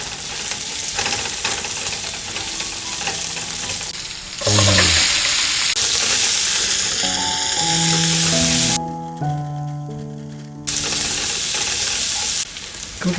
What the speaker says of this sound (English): cooking after 3 minutes on medium heat. You can see the onion gets translucent